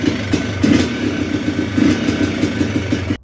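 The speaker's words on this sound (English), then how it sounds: "The quad just needs to be idling for about 5 minutes" A mid-pitched Yamaha Blaster ATV engine idles steadily, a low rumbling drone with a slight uneven pulse, close by and continuous throughout.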